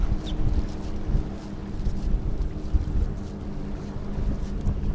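A motorboat's engine rumbles past at speed over the water, mixed with constant wind buffeting the microphone, a steady, fairly loud roar.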